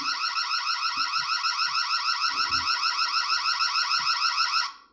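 A loud, steady electronic alarm from an ANNKE Whiffle battery-powered video doorbell pulses rapidly and continuously for several seconds, then cuts off, with faint background knocks.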